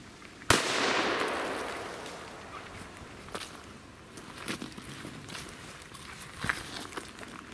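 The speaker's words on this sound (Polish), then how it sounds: "ten wybucha w wodzie" A firecracker goes off in water with one sharp, loud burst that decays into a hissing wash, followed by fainter scattered pops and patters.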